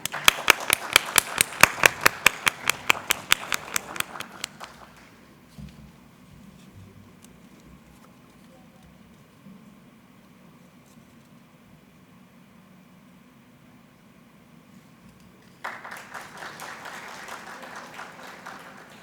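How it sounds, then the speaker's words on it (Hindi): Audience applause at a Hindi poetry gathering, a burst of loud, rhythmic group clapping that dies away to quiet room murmur, then a second round of clapping returns near the end. "जोरदार तालियां।"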